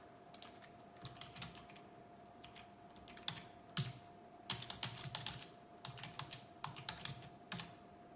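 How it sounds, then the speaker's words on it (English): Command-prompt input is typed on a computer keyboard as irregular clusters of light, crisp key clicks, close but quiet over a faint steady electrical hum, with no talking. "I would type that at the command prompt."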